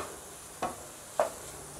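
Egg noodles with vegetables and coriander stirred in a pan, two brief scraping strokes of the spatula over a low, steady sizzle, close and quiet with no talking.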